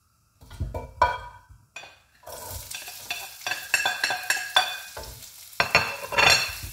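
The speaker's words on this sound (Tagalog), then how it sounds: "And then, after that, ilalagay na natin ang onion." Chopped onion stirred and frying in a hot pan for a potato and cauliflower curry, with a steady sizzle and repeated scraping stir strokes throughout, close and fairly loud.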